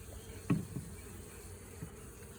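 Honey bees at an open beehive during an inspection, a faint low buzz droning steadily with a couple of brief soft knocks.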